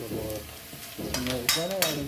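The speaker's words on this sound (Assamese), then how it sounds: "এতিয়া মানে আৰু এই পিঁয়াজটো ভাজি আছোঁ" Onions fry in a pan with a close, crackling sizzle and bursts of stirring, and faint tonal sounds run underneath.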